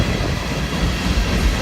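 Long CSX freight train with refrigerated cars rolling past on the Rochester Subdivision, a steady close low rumble of wheels and wagons throughout with no horn or voices.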